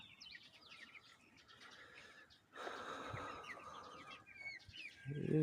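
Chicks at a poultry farm, faint scattered peeping and chirping with a louder burst of calls midway, heard at a low level alone.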